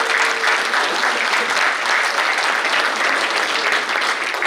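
Sustained applause from an audience at a December 2019 FrankTalks event, steady and dense throughout, with no talking over it.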